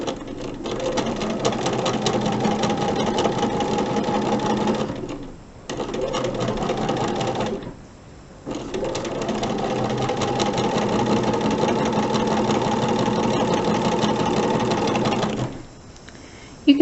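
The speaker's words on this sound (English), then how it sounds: "We're going to sew just like before, 1/4 inch from each side of the line we drew." A sewing machine stitches a quarter-inch seam on an hourglass quilt block, running in a steady close whirring hum for long stretches, stopping briefly twice before starting again.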